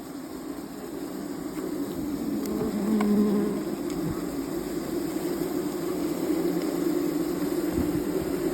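Stingless bees, uruçu nordestina, buzzing around an opened wooden hive box, a dense continuous close drone that swells slightly midway, with no talking.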